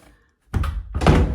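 A door swung shut on a resistance band anchor, after a short silence two heavy close thunks land in quick succession.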